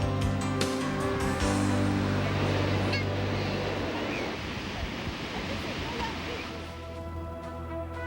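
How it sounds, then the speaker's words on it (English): Ocean waves breaking on a white sandy surfing beach in False Bay near Cape Town, a steady loud wash of surf with wind, a narrator speaking over it throughout. "It's a white sandy beach, beautiful waves."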